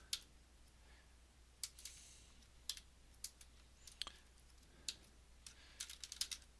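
Quiet computer keyboard typing while coding in MATLAB, scattered clicks and short bursts of keystrokes over a faint steady hum, no voices.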